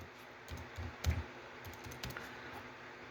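Light clicking keystrokes on a computer keyboard as a password is typed, a few faint, scattered taps with one slightly louder burst in a quiet room.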